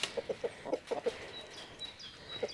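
Chickens on a Portugal homestead cluck nearby in short, scattered bursts, with a few quick clucks grouped together and brief gaps between them.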